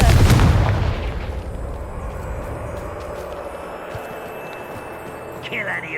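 A Confringo fire spell bursts in Hogwarts Legacy: a loud, close blast in the first second that fades into a rumbling tail over steady game ambience, with a brief whooshing rise near the end.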